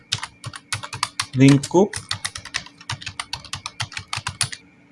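Fingers tap quickly and steadily on a computer keyboard, a close run of crisp clicks in an even rhythm, while a voice talks over the typing.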